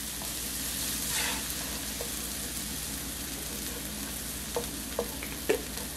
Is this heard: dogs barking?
no